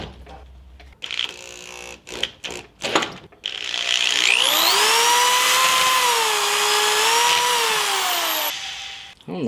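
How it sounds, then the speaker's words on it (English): A small hand drill bores a hole for the quick link on a homemade two-handed flail maul. It starts after some brief clatter and then whines loud and steady for about five seconds, its pitch wavering slightly. "And now I drill the hole for the quick link with the scariest drill on earth."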